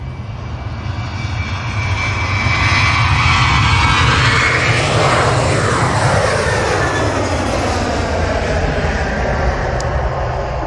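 A Ryanair jet departs Manchester Airport with a loud, sustained engine roar, its pitch sweeping down as the plane passes near and then fades slightly.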